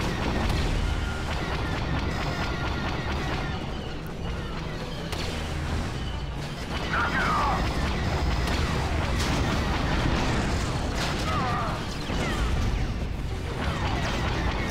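Explosions rumble through a space battle in Star Wars Galactic Conquest, forming a loud, dense, continuous wall of booms and blasts layered with game effects, with no pause throughout.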